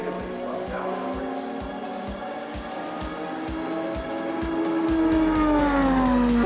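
A race car at Road America screams along the track, its engine note rising steadily and sweeping upward near the end with a close, loud pass, continuous and without pauses.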